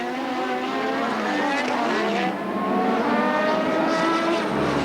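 Formula 1 race cars from 1986 screaming around the Australian Grand Prix circuit during practice, high engine notes rising and falling continuously as cars pass, with a commentator's voice faintly underneath.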